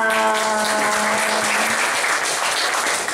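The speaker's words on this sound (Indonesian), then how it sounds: "Tepuk tangannya mana?" A crowd at an anti-drug legal outreach gathering in Indonesia applauds loudly and continuously, with a brief sustained tone fading under the dense clapping early on.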